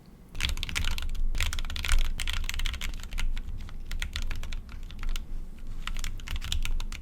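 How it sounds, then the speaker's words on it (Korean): Someone types steadily on a Keychron Q1 keyboard fitted with Gateron brown switches. The keystrokes are soft and muted, a continuous, fairly quiet clatter with no talking. "그 다음으로는 키보드 타이핑을 해봤는데요. 참고로 게이트론 갈축이 탑재되어 있습니다."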